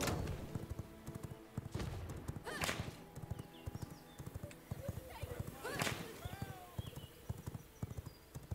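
Rhythmic clip-clop of galloping horse hooves in the video game V Rising, with occasional whinnies and a voice talking over the steady hoofbeats.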